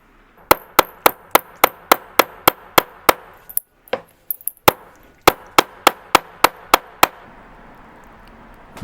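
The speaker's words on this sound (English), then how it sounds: "by hammering or forging it down onto a piece of suspension spring steel" A hammer forges a strip of suspension spring steel into a U shape for a pendulum suspension on a three-train spring clock. About twenty sharp, close metallic blows fall in a steady fast rhythm, with a short pause of lighter taps midway.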